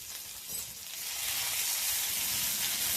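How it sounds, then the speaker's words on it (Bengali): Ginger and cumin paste sizzling and frying in a pan, a steady close hiss that swells and holds through the whole stretch with no one speaking. "এবার এই আদা জিরেটা অল্প একটু নেড়ে চেড়ে ভেজে নেব"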